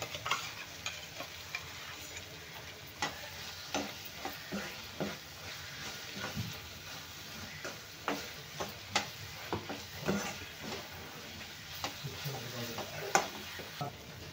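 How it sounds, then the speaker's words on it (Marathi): A ground peanut and sesame paste is stirred into hot spiced oil in a pan for a pumpkin curry, giving a soft sizzle broken by repeated scraping stirs, close and without talking. "आता आपण वाटलेलं घालून घेऊया। शेंगदाणे आणि तिळाचं मिश्रण"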